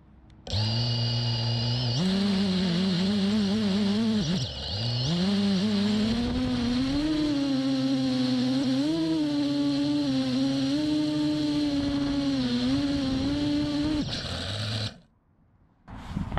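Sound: Hyperlite Glide 6-inch drone test hover

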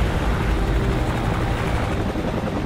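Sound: helicopter in video game Call of Duty 4: Modern Warfare

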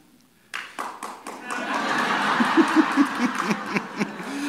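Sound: audience applause

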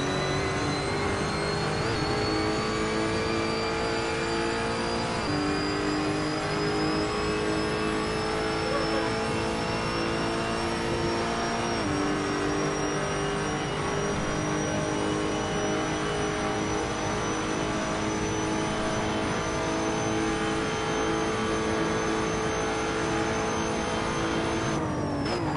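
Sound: Lotus Evora race car engine accelerating out of a corner, Assetto Corsa video game

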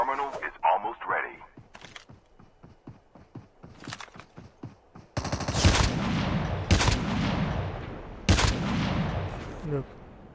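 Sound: AK-47 gunfire in the video game Call of Duty Mobile

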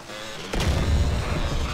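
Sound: explosions at a base in video game MTA DayZ

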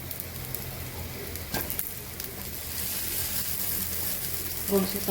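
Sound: amboli batter sizzling on hot pan after flipping

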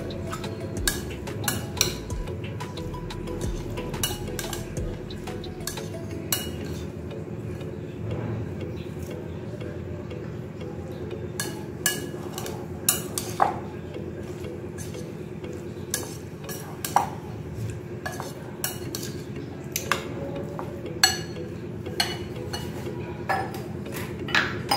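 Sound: mixing daana methi salad ingredients in a bowl

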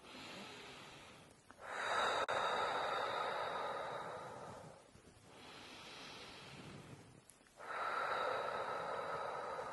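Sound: rhythmic breathing during a labour contraction

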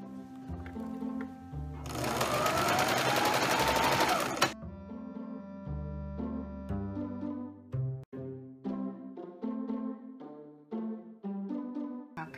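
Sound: sewing machine sewing zigzag stitch on pillowcase dress

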